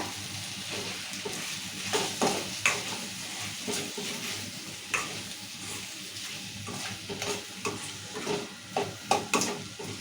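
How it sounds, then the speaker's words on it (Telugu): A spoon stirs chili powder into taro curry sizzling in a pan, giving irregular scraping strokes over a soft frying hiss, close and fairly quiet with no talking. "నేను కారం వేసాం కదా కలుపుకుందాం మంచిగా"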